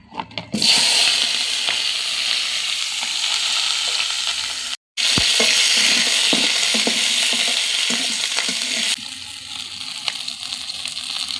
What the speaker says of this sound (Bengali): ওই তেলে রসুন আর এই পেঁয়াজটা ভেজে নেব।